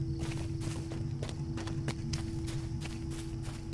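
Horse hooves clop in a steady, rapid rhythm in Lord of the Rings Online, evenly spaced thuds over a constant low background hum throughout.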